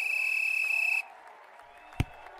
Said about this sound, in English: Bizzy Bear, Bizzy Bear, whistle blows.